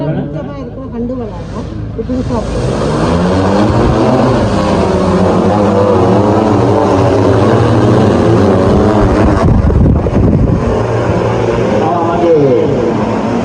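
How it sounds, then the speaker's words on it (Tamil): An agricultural drone sprays crops at an outdoor farm field festival, its loud, continuous buzzing rotor drone running throughout under crowd chatter and an announcer's voice. "நவீன விவசாய நடவடிக்கையான ட்ரோன் மூலமான மருத்துவ விசிறல் தொழில்நுட்பமானது"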